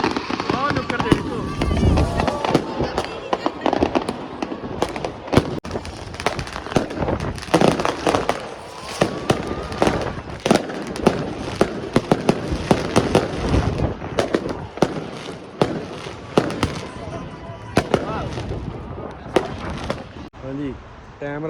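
New Year fireworks and firecrackers go off in Belgium, with rapid, irregular sharp bangs and crackles at varying distances, some loud and close, with voices heard among the blasts.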